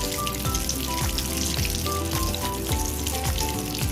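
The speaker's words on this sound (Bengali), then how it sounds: "আর তেলের মধ্যেই মশলাগুলো দিয়ে দেবো।" Spices dropped into hot oil for a Bengali-style ilish fish dish sizzle loudly and steadily, a dense close crackle of frying with a faint background hum.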